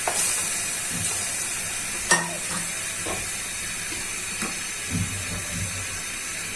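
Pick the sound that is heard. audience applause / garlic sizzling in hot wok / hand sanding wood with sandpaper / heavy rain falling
garlic sizzling in hot wok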